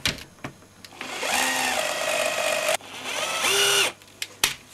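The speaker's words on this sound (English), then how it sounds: "if you put your drill through the kitchen roll, just ever so slightly, just very slowly drill into it" An electric drill whines in two bursts while drilling slowly into a plastic ball, rising in pitch as it spins up, with short clicks and knocks between runs; close and fairly loud.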